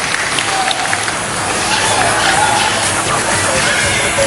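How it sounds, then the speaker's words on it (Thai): A crowd at an outdoor youth awards ceremony claps for the winning school team, a steady loud wash of applause and babble lasting throughout. "ปรบมือหน่อยครับ ให้กำลังใจกับเยาวชนนะครับ"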